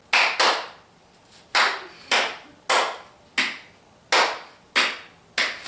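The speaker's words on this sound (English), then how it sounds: "for continuous clapping you just flex and extend your radiocarpal joint" Hand claps repeated at a steady rhythm, about nine sharp, close, loud slaps with brief decays, produced by flexing and extending the wrist, with no voices.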